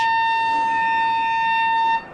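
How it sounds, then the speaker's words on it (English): The full-time siren at an Australian football match at Drummoyne Oval sounds as a single loud, steady electronic tone held for about two seconds before cutting off. "And there is the full-time siren here at Drummoyne Oval."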